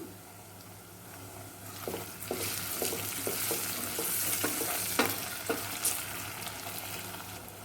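Tomato pieces sizzle steadily as they fry with well-browned onions for a prawn pulao, with a series of sharp spatula knocks and scrapes against the pan across the clip.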